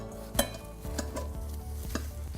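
Kaiserschmarrn batter with apples sizzles and is stirred in a pan, a close, steady frying hiss broken by several sharp scraping strokes of a utensil against the pan.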